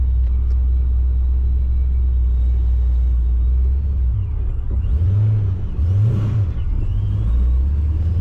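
A supercharged Pontiac GTO engine idles steadily while warming up, a deep, close rumble that stays even throughout with a slight wavering in pitch and no voices.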